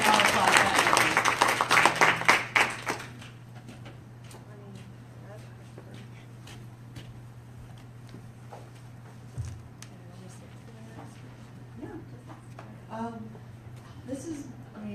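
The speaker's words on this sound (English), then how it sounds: "We can all applaud that" An audience at an interfaith week panel bursts into brief applause lasting a few seconds, then it fades and a voice carries on speaking over a quiet room.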